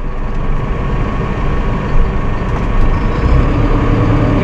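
A Massey Ferguson 5S.145 tractor with a front loader keeps a loud, steady low diesel drone that swells slightly as the engine revs up while the loader works.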